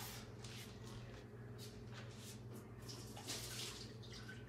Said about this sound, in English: I'm going to pour a little bit of this water off.